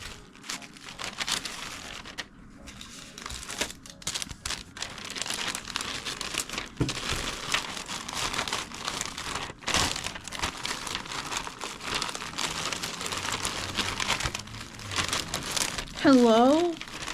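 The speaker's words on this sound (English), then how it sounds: "I fold up the tote bag and then I wrap it with tissue paper" Tissue paper crinkles and rustles as it is folded and wrapped around a tote bag, close and fairly quiet, with repeated bursts of handling noise throughout.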